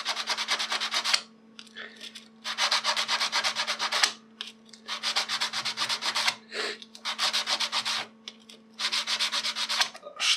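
Scale is scraped and cleaned off a homemade garage metal tool in rhythmic bursts of harsh, close rasping strokes separated by short pauses, over a steady low hum.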